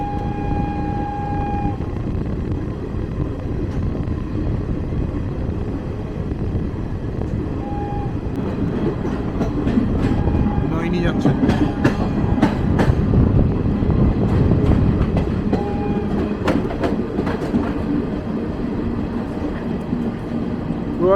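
Kumbh special train 03021 runs on rails near Prayagraj toward the Naini bridge over the Yamuna, a loud continuous rumble with wheel clatter and sustained tonal squeals, heard from onboard.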